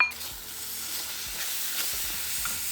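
A steady sizzling hiss of a sweet cottage cheese mixture frying in a pan, continuous and close, with faint clinks now and then.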